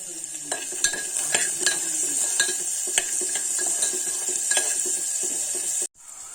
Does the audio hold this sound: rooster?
no